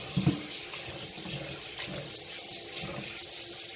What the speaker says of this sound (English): wash the rice in cold water.